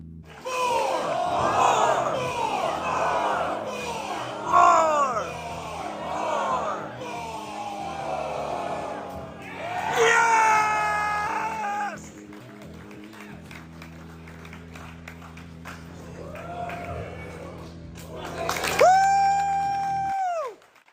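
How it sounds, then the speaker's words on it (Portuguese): A person screams in the background of a 2002 action-figure advertisement, with excited yells and crowd-like shouting rising in several loud bursts, the last a long, high held scream, over music-like tones. "aquele era eu gritando ao fundo"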